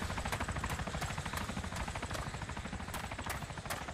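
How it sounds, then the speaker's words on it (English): A helicopter in the video game DayZ passes overhead, its rotor thudding in a fast, regular chop with a continuous engine roar, loud and close and steady for the whole stretch with nothing else over it. "The same helicopter we had just flew over me"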